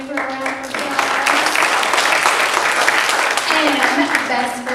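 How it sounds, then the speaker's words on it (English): Applause from a church congregation during a Sunday service, a steady wash of clapping filling the room for several seconds alongside faint voices. "can we give her a round of applause?"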